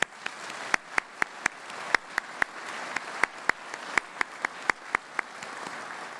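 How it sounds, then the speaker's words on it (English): An audience at the 2013 Mayor's State of the City Address applauds award winners for keeping Riverside beautiful: a soft, steady wash of clapping with many sharp individual claps popping out near the front. "Let's give our winners one more round of applause."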